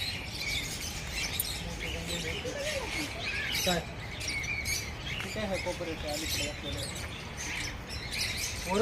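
Parrots squawk and chirp in a zoo aviary, harsh calls recurring over steady crowd noise while people chat nearby.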